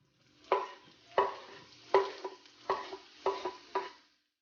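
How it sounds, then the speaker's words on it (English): Red onion is sautéed in a pan with about seven rhythmic scraping stir strokes, each a short sizzling rasp with quiet gaps between them. The sound is close and fairly soft, and no one speaks. "I'm just gonna saute for 30 seconds before I add my pork"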